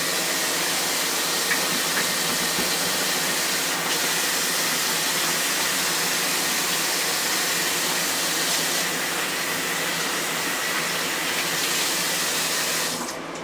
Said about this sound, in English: now I'm going to wash my hands because